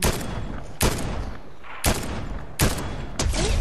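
A sniper rifle in a video game fires in four sharp, loud reports spaced about a second apart, each with a short ringing decay over a low background hum.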